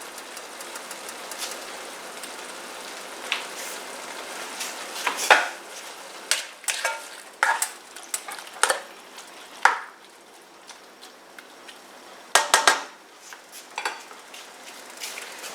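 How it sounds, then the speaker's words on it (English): Boiled pasta goes into a pan with shrimp and is stirred with a utensil, a series of close scraping and clanking strokes over a soft steady sizzle. "need to add the boiled pasta"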